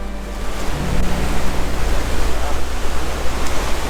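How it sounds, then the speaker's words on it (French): Ocean waves breaking and washing on a shore, a steady loud roar of surf with continuous rushing water and no voices. "il faut observer les vagues et attendre qu'il y ait une grosse vague"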